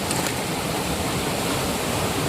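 Fast-flowing hillside waterfall swollen by rain at Sahastradhara in Uttarakhand: a dense, loud, unbroken roar of rushing water filling the whole clip, close and steady with no pauses.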